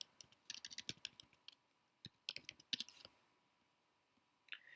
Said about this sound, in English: typing into Google free QR code generator